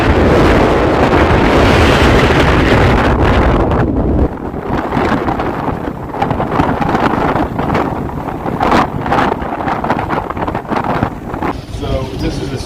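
Strong storm wind of about 33 mph with gusts to 40 roars over a sailboat dragging at anchor, heavy and buffeting across the microphone, easing slightly after the first few seconds while gusts keep surging.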